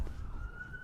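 An ambulance siren sounds outside, faint and distant, as a single steady rising wail heard over low background rumble.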